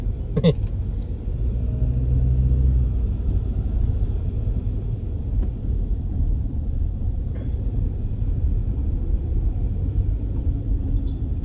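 Traffic on EDSA in Metro Manila, a constant low rumble of engines and tires heard from inside a moving vehicle, steady throughout with a faint brief chirp near the start.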